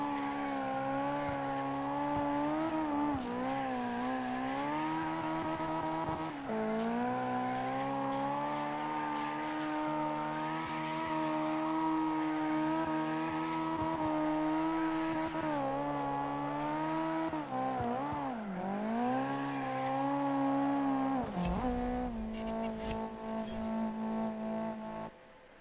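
A drifting car in CarX Drift Racing Online, its engine holding a long sustained whine with pitch swings through transitions, tire squeal mixed in, ending in a burst of noisier sounds near the end.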